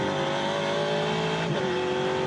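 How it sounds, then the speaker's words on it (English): TA2 muscle race cars roar past on track at Queensland Raceway, a steady loud engine drone with a gear change midway, continuous and close, no talk. "The sweet sounds of these TA2 muscle cars."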